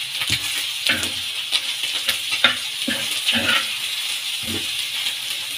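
Onion and garlic frying in oil in a pan, with fish cooking alongside for a Karachi-style fish katakat: a steady close sizzle with the rattle and scrape of stirring throughout.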